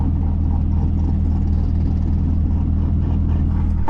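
A C6 Corvette fitted with an aftermarket cam idles up close with a deep, choppy, loping rumble and a strong low-end throb, steady throughout, ending in a brief sharp burst.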